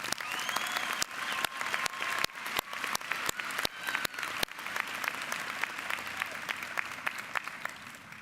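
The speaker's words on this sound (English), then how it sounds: "Will the audience please join me in applauding these honors candidates?" Audience at a university commencement ceremony applauding honors candidates: sustained crowd clapping with scattered sharper claps standing out, fairly distant and moderately quiet, continuing steadily throughout.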